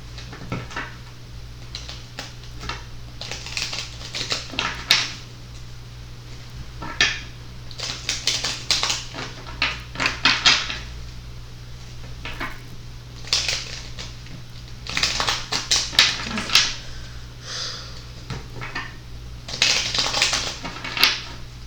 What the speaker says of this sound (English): So I'm just going to shuffle a couple times